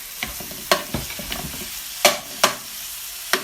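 Saltfish tossed into a hot frying pan and stirred, with sharp scraping clacks of the spoon against the pan over a soft sizzle, several distinct strokes in a few seconds.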